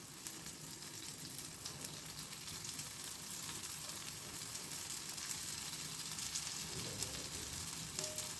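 Moong dal vada batter, spooned in, frying in hot oil with a steady close crackling sizzle that holds throughout, no voices.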